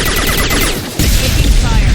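Rapid automatic gunfire in the shooter Mass Effect 2 rattles loudly and close, breaking into a heavier burst halfway through, with game noise dense around it.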